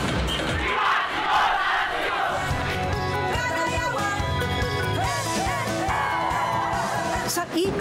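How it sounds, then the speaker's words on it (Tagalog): A dense crowd yells and cheers loudly and continuously over pounding drums and music at a Filipino street fiesta, with voices shouting throughout. "Ingay ng mga tambol, kasabay ang indak at sigaw ng mga Pinoy."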